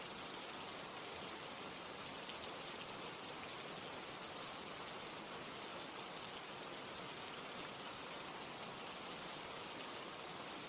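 Steady rain falling continuously, a dense even hiss that stays constant throughout with no voices.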